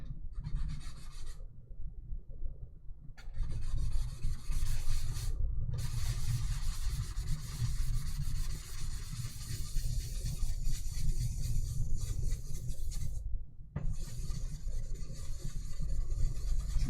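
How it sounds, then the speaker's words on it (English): Fine sandpaper rubs across a carved stone seal in a steady, close rasping scrape with a few brief pauses, and nobody talks. "You all use a fine sandpaper here. Just sand off."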